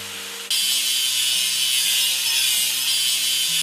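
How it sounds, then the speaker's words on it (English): A grinder works a weld seam on a dump truck in a kids' truck video game: a steady, loud, harsh hiss starts abruptly and runs continuously over low stepping electronic tones until it cuts off. "And now let's grind the seam."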